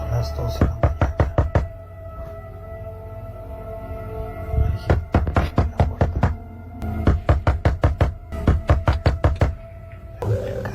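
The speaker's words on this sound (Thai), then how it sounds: "เนี่ยเสียงเคาะประตูเลย" Bursts of rapid knocking on a door repeat in several rounds, each a quick series of sharp, close raps separated by short pauses, over a quiet low hum.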